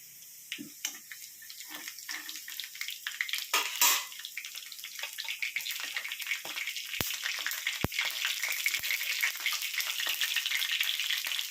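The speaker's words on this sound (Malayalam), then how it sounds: "ഉള്ളി മൂത്ത് കഴിയുമ്പോൾ കടുക് അങ്ങോട്ട് ഇട്ടാൽ പെട്ടെന്ന് കടുക് പൊട്ടും" Onion and mustard seeds frying in hot oil in a pan for a ridge gourd curry give a continuous sizzle, with sharp pops and crackles as the seeds splutter, heard close up with no talking.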